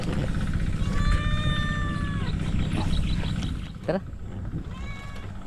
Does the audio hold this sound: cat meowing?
yes